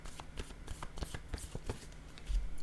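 Tarot cards riffled and drawn from the deck, a steady run of soft papery flicks and taps close by, with no voices.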